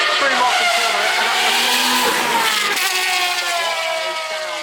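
Race car at the Goodwood Festival of Speed 2024 hill climb, heading up through Morecambe Corner: a loud, high engine note rising and shifting as it accelerates, with tire squeal, passing fairly close.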